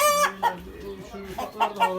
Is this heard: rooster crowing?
yes